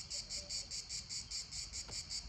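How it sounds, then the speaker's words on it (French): A cicada shrills nearby in a steady pulsing buzz, about ten even beats repeating over a couple of seconds with no voices. "Je crois que c'est une cigale"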